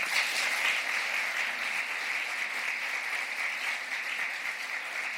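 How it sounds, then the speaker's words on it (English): Steady, sustained applause from a sizable theatre audience, dense and even throughout, with no voices standing out. "let's give them a big round of applause"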